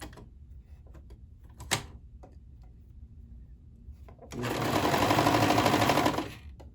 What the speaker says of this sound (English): unlike a regular sewing machine, you can keep sewing when there's no fabric under there. So I just kind of keep going